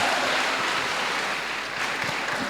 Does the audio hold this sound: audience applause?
yes